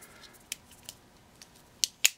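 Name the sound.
adjustable pliers being handled and adjusted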